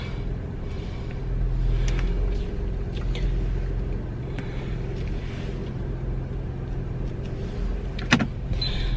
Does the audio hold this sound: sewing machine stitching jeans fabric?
no